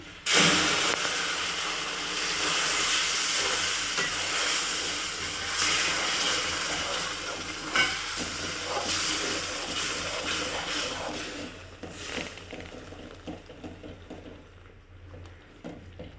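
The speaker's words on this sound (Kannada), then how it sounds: "ಈ ಥರ ನೀರು ಚೆನ್ನಾಗಿ ಕುದ್ದಿತ್ತೆ" Water boils hard in a pot with a loud, steady steam hiss and bubbling that thins out toward the end, leaving quieter scattered bubbling, no talk.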